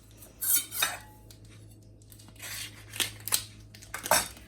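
A knife works through a pork loin being cut into pork chops on a hard surface, with several sharp scraping strokes and clicks spaced irregularly, close and fairly crisp, with no talking.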